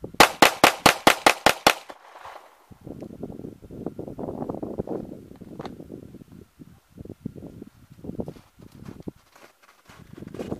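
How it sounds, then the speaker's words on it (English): Eight rounds of rapid gunfire at a bottom target at a shooting range crack out in a tight, evenly spaced burst at the start, then a voice talks over quiet background. "So 8 rounds, as fast as we can squeeze the trigger after that first round on the bottom target."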